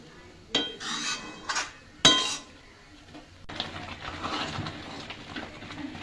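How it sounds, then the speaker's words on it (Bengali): Rice dumpling payesh being stirred in a pot: a few distinct metallic clinks and scrapes of a spoon against the pot early on, then a softer continuous bubbling and stirring rustle. "একটু নাড়িয়ে দেব।"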